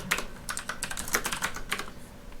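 Rapid typing on a computer keyboard, a dense run of close, crisp key clicks in irregular bursts with no talk.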